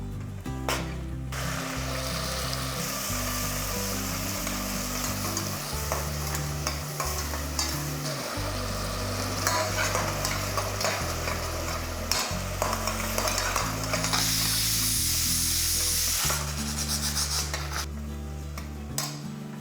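Tomatoes are added to sautéing onions for a broiler chicken gravy, and the pan sizzles loudly while a utensil scrapes and clatters against it in repeated stirring strokes, with music playing underneath throughout.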